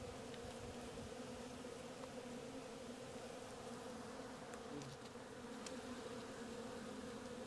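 Honeybees buzz in an open hive holding a swarm queen, a dense, continuous drone with a steady hum and occasional louder passes of individual bees nearby, fairly quiet and with no talk.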